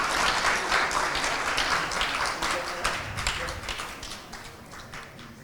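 An audience at a symposium marking 50 years of ASEAN-Japan friendship and cooperation claps after a panel discussion, a loud, steady round of applause that gradually tapers off.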